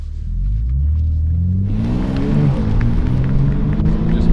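A BMW M4 Competition G82 with an 8-speed automatic pulls away on a race-track warm-up lap, its engine droning deep and steady, then rising in pitch as it accelerates, heard from inside the car.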